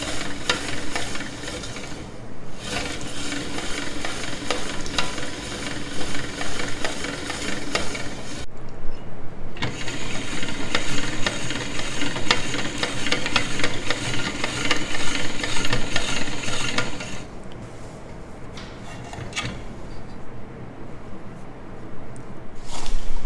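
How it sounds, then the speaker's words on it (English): Fresh homemade pasta dough cranked through the cutting attachment of a pasta machine, giving a steady close mechanical whirring and clicking rumble that pauses briefly and then resumes. "And then you just run it through the cutting attachment of your choice."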